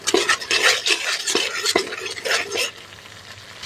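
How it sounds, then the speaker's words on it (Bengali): Ground cumin, chili, turmeric and coriander powder sautéing in a pan for a Bengali potato curry. The spices fry in a steady, close sizzle while a spoon stirs and scrapes at regular intervals, then the cooking settles down toward the end. "সব উপকরণ দিয়ে ভালো করে কষিয়ে নেব।"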